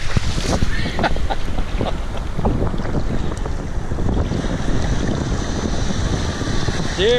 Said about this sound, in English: There comes some waves.